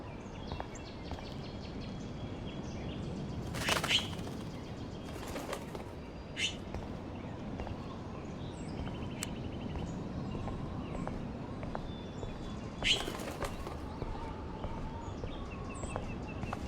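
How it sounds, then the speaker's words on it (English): A trapped bird flaps its wings in bursts inside a room in the video game Life is Strange, with several loud wingbeat flurries and faint chirps over a steady ambient hiss. "that poor little bird has been trapped in here"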